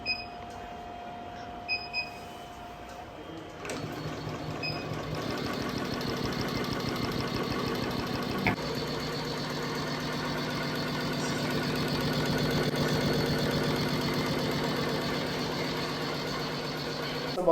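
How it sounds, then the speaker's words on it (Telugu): A designer embroidery machine for blouse work starts up after a few beeps, then runs steadily with a rapid, even mechanical chatter that continues to the end. "సో మన మిషన్ మీద ఎలా వర్క్ అవుతుందో చూపిస్తానండి. సో ఈ హ్యాండ్మేడ్ది మనకి ఇప్పుడు వర్కింగ్ మోడల్ చూడండి మీరు."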